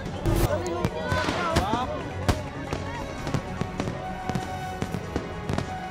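Firecrackers pop and crackle on a riverbank in a rapid, irregular burst of sharp bangs during a pagoda river procession in Bocaue, with voices and crowd noise in the background.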